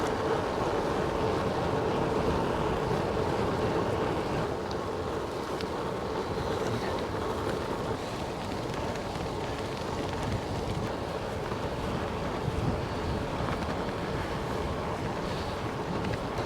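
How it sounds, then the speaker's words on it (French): Light wind rushing past a cyclist on a calm, gently rolling road ride, a continuous broadband buffeting roar of wind against the microphone lasting throughout, with no talking. "Il y a un petit vent là."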